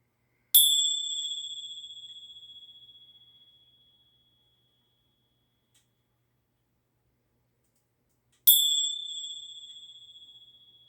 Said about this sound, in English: I love the sounds of bells